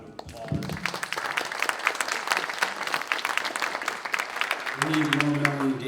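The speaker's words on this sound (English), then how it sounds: "Let's give Melanie another round of applause." A telethon audience applauds a guest with scattered, fairly close claps of moderate strength, and a voice or tone rises briefly near the start and again toward the end.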